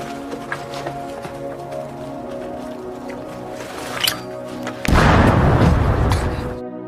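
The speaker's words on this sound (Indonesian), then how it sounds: "Bom itu membuat dua prajurit tewas dan Ken malah disalahkan." A bomb explodes in a scene from the war film The Great War: after a quiet stretch of low tonal ambience and scattered soft sounds, a sudden loud, broad blast erupts and roars for about two seconds before cutting off.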